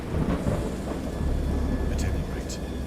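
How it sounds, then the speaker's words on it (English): Deep rolling thunder rumbles continuously through a storm, with a heavy low-end roar and a steady hiss like rain, while a voice speaks underneath. "I heard pearls of thunder and other tones which nature utters only in her wildest moods"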